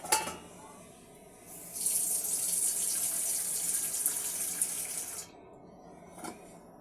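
Broth is poured into a simmering chicken wing and leg curry with potato and papaya, a steady liquid splash that builds in the middle and fades, fairly quiet and close.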